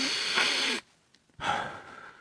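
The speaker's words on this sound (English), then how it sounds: "Let's just give it a good sniff." A person takes two long, loud sniffs close up at a new Marseille tarot card deck, with a short quiet pause between the inhales.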